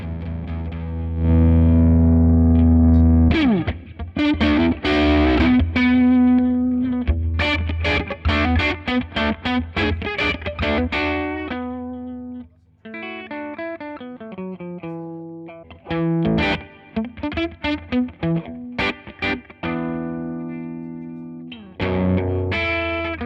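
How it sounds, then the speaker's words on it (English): An electric guitar runs through a Dunlop EP101 pedal and Echoplex EP3 into a dirty, cranked amp. Sustained distorted chords give way to bursts of choppy repeated notes and echoing phrases, loud and alone. "I'm going to get a dirtier sound on the amp."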